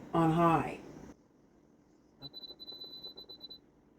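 A kitchen cooker timer being set for 75 minutes on high gives a quick series of short high beeps in an irregular run after a brief burst of talk, fairly faint and close.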